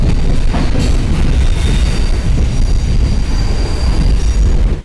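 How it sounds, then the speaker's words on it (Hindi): A fast local train in India races past on the way toward Kerala: a loud, continuous roar of rolling wheels with a thin high squeal running through it, close and unbroken, with no voices. "अभी इससे ये लोकल ट्रेन की तरह है, तो बहुत फास्ट चलते हैं ट्रेन"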